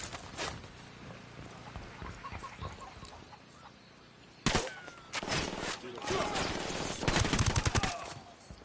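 Gunfire crackles in the video game Ghost Recon Wildlands, with scattered shots followed by heavy overlapping bursts of automatic fire that grow louder and denser toward the end, against a busy background of game sounds.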